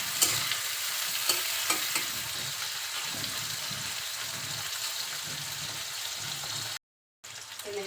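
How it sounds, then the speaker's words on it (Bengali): Spices get stirred in hot oil in a pan: a constant crackling sizzle with scraping strokes from the spoon, close by, cut off by a short dropout near the end. "তেলের সাথে একটু নাড়াচাড়া করে নিচ্ছি।"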